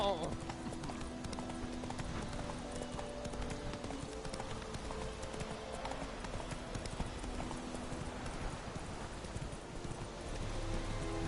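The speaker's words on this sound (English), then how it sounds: "What are you doing, you silly horse?" Horse hooves clip-clopping steadily in The Witcher 3, with occasional neighing and whinnying, close and continuous over about eleven seconds, mixed with game sounds and voices talking.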